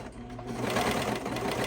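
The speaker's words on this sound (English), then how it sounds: "I'm going to start by overlocking the raw edges" An overlocker serging the raw bottom edge of a corset hums in a steady, dense whir that holds close and even from start to finish, with no voices.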